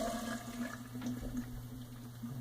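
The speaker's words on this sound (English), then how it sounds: "I'm pouring all 200 milliliters of water into the small pebbles." In a porosity and permeability lab, 200 milliliters of water are poured into a container of small pebbles, making a steady, close, fairly quiet gurgling pour with no talking.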